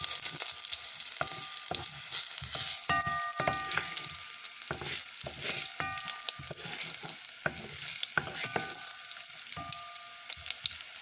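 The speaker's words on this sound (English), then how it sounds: "I'm gonna let this fry a bit brown, while the cumin seed are already getting a bit brown too as well." Garlic and cumin seeds sizzle and fry in a pan for dhal split pea soup, a steady close crackle with intermittent scraping stir sounds and light clinks throughout.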